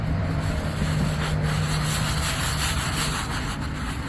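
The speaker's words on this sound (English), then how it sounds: "So I go through one time at the end with this super soft brush, and even though it looks like I'm scrubbing really hard on it" A super soft brush scrubs a stone headstone in a continuous, close rasping swish that holds at an even level for about four seconds without pause.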